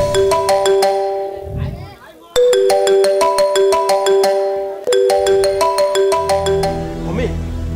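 A mobile phone ringtone plays loudly as a repeating electronic melody of bright chiming notes, restarting in cycles, with brief voices and crowd noise from a village jatra performance in the background.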